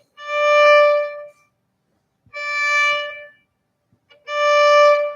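Three sustained bowed violin notes, each a broad down-bow stroke lasting about a second, separated by short silences, played alone and close, from Bach's Chaconne for solo violin.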